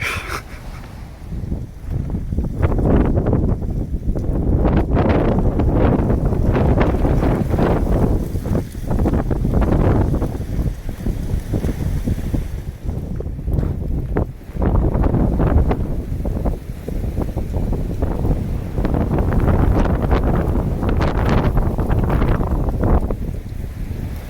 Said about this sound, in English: Sure is getting windy.